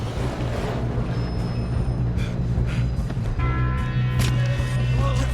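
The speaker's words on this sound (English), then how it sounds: "we need to stop this train" Train rumbling along the tracks during a train robbery in the Red Dead Redemption II video game, a steady loud mechanical roar with clanking and a rising hiss near the end, no talk over it.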